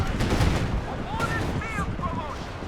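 A rocket barrage in Company of Heroes 2 thumps as a sustained rumble of distant blasts and rolling explosions, with someone talking over it.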